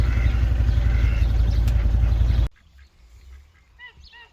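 Two farm ducks quacking near their pen during chores, a loud dense burst of honking calls at first, then a sudden drop to quieter scattered quacks with faint background noise.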